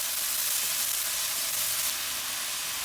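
Shredded potato stir-fried in hot oil with Sichuan peppercorns over high heat in a wok, giving a steady, dense sizzle and hiss that stays loud and even throughout, with no talking.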